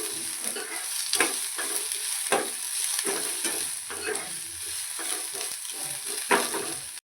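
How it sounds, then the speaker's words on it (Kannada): Onions frying in a pan until golden for a pasta dish: a steady soft sizzle with repeated scraping stirs of a spoon, close and fairly quiet, with no talking. "ಈರುಳ್ಳಿ ಫ್ರೈ ಮಾಡೋಣ, ಗೋಲ್ಡನ್ ಫ್ರೈ ಆಗೋ ತನಕ ಫ್ರೈ ಮಾಡಬೇಕು ಈರುಳ್ಳಿ."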